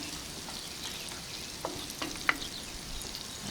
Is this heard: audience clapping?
no